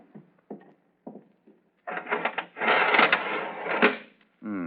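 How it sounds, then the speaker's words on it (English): A heavy iron window shutter being lowered, a long rattling metallic roll of several seconds that follows a few short knocks and ends in a brief separate clatter, heard close with no talk. "go inside and lower the iron shutter"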